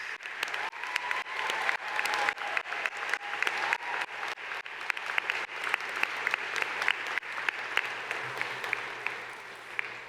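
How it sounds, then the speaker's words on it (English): Sustained applause for Faculty of Business graduates at the Athabasca University 2023 convocation, a large hall of steady clapping with sharp individual claps standing out over a low constant hum. "How about another round of applause for all the graduates from the Faculty of Business?"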